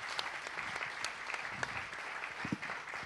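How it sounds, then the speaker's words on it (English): Applause from a summit keynote audience, a steady patter of clapping heard faintly with no voices. "I would like for you to give JP a round of applause"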